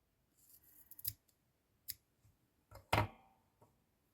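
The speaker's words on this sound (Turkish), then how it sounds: "Şimdi ikiye keseceğim." Scissors snip through crochet yarn for an amigurumi duck, giving a few crisp close cuts, the loudest near the end, against otherwise quiet surroundings.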